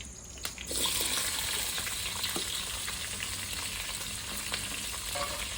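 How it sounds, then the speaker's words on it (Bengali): Sliced onion, green chili, bay leaves, cinnamon, cloves and cardamom fry in oil in a pan with a loud, continuous close sizzle that swells after a soft start, with light crackles throughout. "পুরো বেশি ভাজবো না আমি হালকা করে ভাজবো হালকা পেঁয়াজ আমার লাল হয়ে গেছে"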